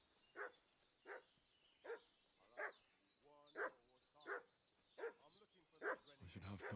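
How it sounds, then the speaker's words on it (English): A dog in the Kingdom Come 2 video game barks again and again in a steady rhythm, about eight distinct barks at moderate distance, with a brief speaking voice near the end. "What's that dog making such a fuss about?"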